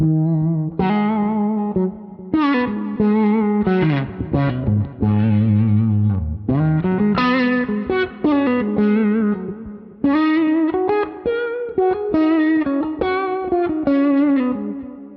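Electric guitar played through the Antelope Filter at its standard setting in the Neural DSP Archetype John Mayer X plugin, producing loud, distorted, phrased notes and chords with a filtered, swept tone and short gaps between phrases.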